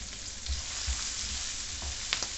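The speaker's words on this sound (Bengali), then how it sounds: "এই পেঁয়াজটা মোটামুটি একটু ভালো করে ভাজা করে নিতে হবে।" Chopped onion frying in hot oil with whole spices for a Bengali katla fish kaliya: a steady, dense sizzle that carries on without a break, close and full, with a few faint utensil clicks near the end and no voices.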